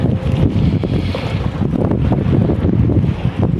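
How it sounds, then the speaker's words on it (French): Steady wind blows hard over open sea around a small fishing boat, a continuous loud rushing with buffeting against the microphone and hints of water and hull noise beneath, no voices. "Le vent est en train de remonter."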